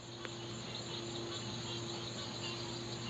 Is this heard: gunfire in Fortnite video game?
no